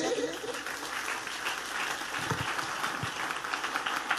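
A church congregation applauding God during a Spanish-language sermon, a steady wash of clapping throughout, with some low voices beneath it.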